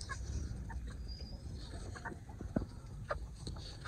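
Desi hens clucking softly at close range, with a few short sharper calls standing out against a steady noisy background.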